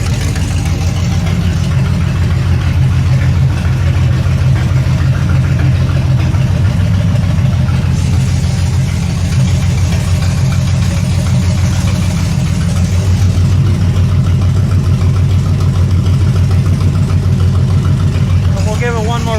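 A 1974 Nova's 7.4-liter 454 big-block V8 idles steadily and loud throughout, a deep, even low rumble with a slight shift in tone partway through.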